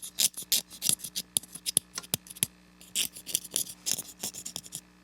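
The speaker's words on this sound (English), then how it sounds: "we'll scrape the channels here a little bit" Reed cane has its channels scraped by hand with a blade in quick, uneven bursts of dry rasping strokes, close and fairly quiet, with short pauses between runs.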